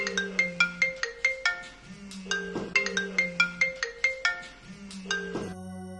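A phone ringtone plays a bright, repeating electronic melody, with the same phrase cycling twice at a loud, close level before cutting off, with no voices.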